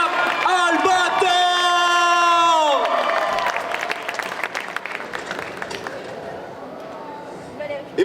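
A festival crowd cheers and applauds a cosplay contestant at a competition, opening with loud sustained shouts and whoops over clapping, then settling into continuous applause with scattered calls.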